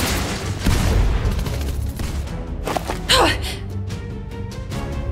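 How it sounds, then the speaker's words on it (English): Gunfire in a Fortnite short film, a burst of rapid shots and booms over a noisy game soundscape, with a voice gasping partway through. "Wait, is that? Gunfire!"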